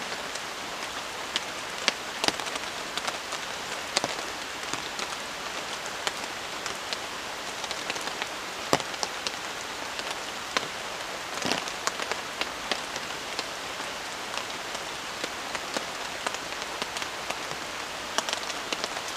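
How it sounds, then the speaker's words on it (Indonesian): Steady rain patters on a campsite, a dense, even hiss of drops with scattered louder taps on nearby surfaces, continuing alone without voices. "Jadi cuaca hujan seperti ini tuh enak banget ya"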